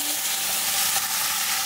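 Tofu sizzling in a frying pan inside a camper, a steady, close crackle of hot oil without pause.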